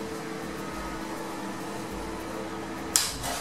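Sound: microwave oven running

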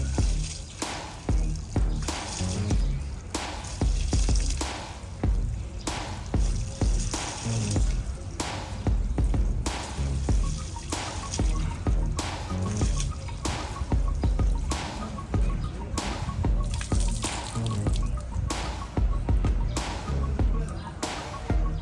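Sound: washing green chillies in water

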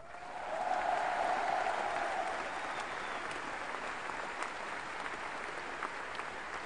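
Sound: concert audience applause

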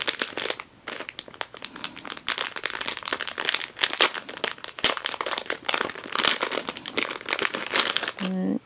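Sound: unwrapping crinkly plastic packaging of compression socks

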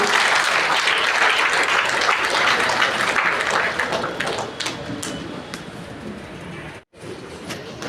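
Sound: applause

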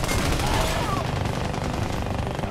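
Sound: gunfire in the video game Army of Two: Devil's Cartel

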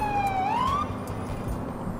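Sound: police car sirens in the video game GTA 4

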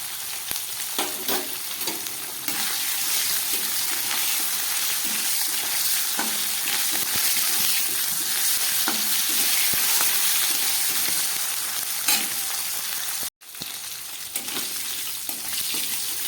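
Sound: hilsa fish head frying in oil

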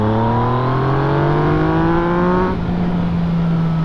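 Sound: Yamaha XSR 900 motorcycle accelerating in mode A

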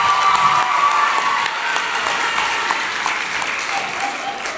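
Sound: audience applause for the host

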